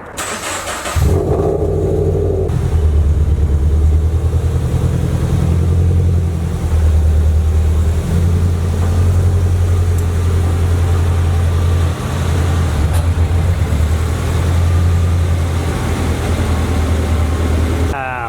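A Subaru BRZ's engine idles steadily and close by as the car backs out, a low continuous rumble with a brief start-up burst at the beginning; a voice talks intermittently over it.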